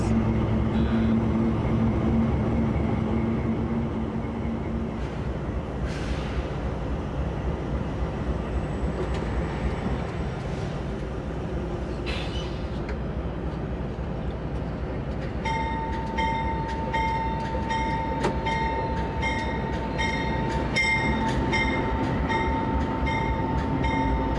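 A freight train rumbles steadily from inside the locomotive cab on the line into La Crosse, Wisconsin, with continuous engine drone, wheel and rail noise, and a sustained horn-like tone and rattling clicks later on.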